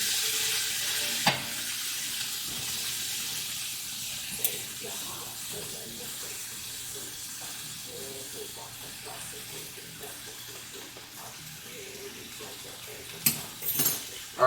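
Noodles boil in a pot in a home kitchen, a soft continuous bubbling hiss with occasional clinks and stirring knocks, quiet and close.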